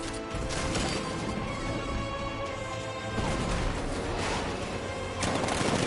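Dense, continuous heavy gunfire and explosive blasts from the Batmobile's tank cannon in Batman: Arkham Knight, loud and sustained with bursts of crashing impacts throughout.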